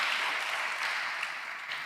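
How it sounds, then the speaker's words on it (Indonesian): A church congregation applauding during a worship service, a steady even wash of clapping from many hands, moderately quiet and continuous throughout. "Tepuk tangan bagi Allah kita."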